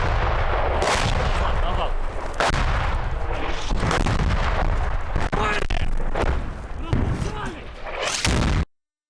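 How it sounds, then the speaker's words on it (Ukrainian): Repeated booming impacts and blasts of Grad rockets landing nearby roll in one after another, loud and continuous, with a voice speaking faintly underneath. "це приходи градів, ніби схоже."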